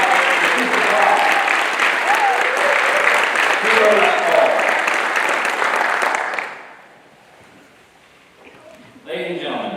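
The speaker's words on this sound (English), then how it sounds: "Let's give one more round of applause for everybody who's with us" Applause for the graduating class at an officer training school graduation ceremony, a dense, loud crowd clapping for about six seconds before cutting out to near silence, with a brief burst of noise returning at the end.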